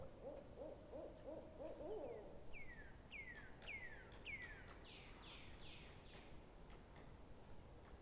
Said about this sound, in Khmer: ឥឡូវនេះស្រាប់តែមានសំឡេងបក្សាបក្សីយំឆ្លើយឆ្លងគ្នាឡើងវិញ